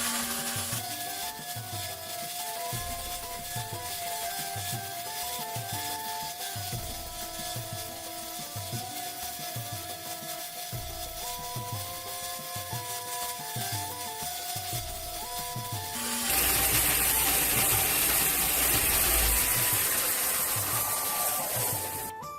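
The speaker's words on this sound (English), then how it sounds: "I'm using a belt sander for this" A belt sander rounds off jigsaw cuts on a wooden sword, giving a steady rhythmic rubbing rasp that repeats in even strokes, then turns into a louder, brighter continuous whine near the end.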